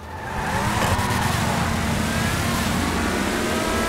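A car in GTA Online revs and accelerates hard, a loud sustained engine roar that rises in the first half second and holds steady, with no talk over it.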